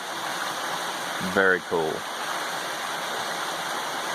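A stream flows right beside a hiker hut in Rangeley, Maine, making a steady close rush of water that runs throughout, briefly interrupted by someone speaking.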